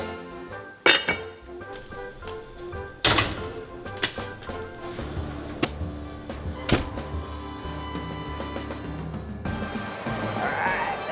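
A lid clinks onto a pot of beef stew, and the pot is then set into an oven, giving several sharp metallic clinks and heavy thunks spaced through a quiet kitchen with steady low background noise.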